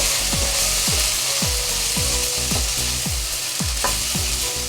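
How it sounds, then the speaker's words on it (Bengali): Sliced onions frying in a pan, a bright continuous sizzle broken by regular scraping strokes of a spatula, about two per second, close and loud with no voices. "এবার আমি কিউব করে কাটা ফালা ফালা পেঁয়াজগুলো দিয়ে দিচ্ছি"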